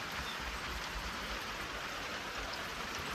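Steady rain falls near a front porch in rural Maine, a soft, even hiss of drops with no breaks or voices.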